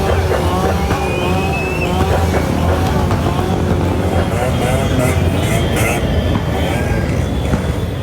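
Loud, continuous roar of motorbike and car engines revving and passing close by in a city street procession on a memorial day, with voices shouting faintly under the traffic noise.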